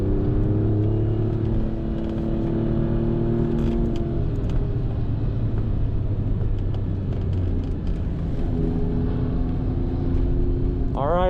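Alfa Romeo Giulia Quadrifoglio on a racetrack, its engine held at full throttle down the back straight: a steady, loud, droning engine tone heard from inside the car that climbs and shifts pitch through gear changes, with a brief tonal sweep at the end.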